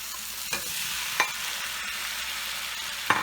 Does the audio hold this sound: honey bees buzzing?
no